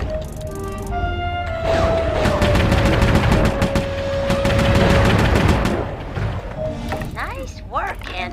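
A turret fires in the Sly Cooper 3 video game, a long loud stream of rapid mechanical shots with a sustained whining tone, continuing for several seconds, with voices and game sounds around it.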